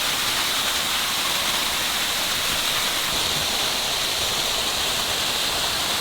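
A waterfall in Costa Rica pours in a loud, unbroken hiss and roar, close and steady, with no voices over it.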